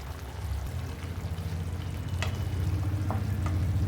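A pot of tamarind curry with brinjal, drumstick and jackfruit seeds is stirred over heat, giving a steady low bubbling sizzle with soft scraping strokes close by.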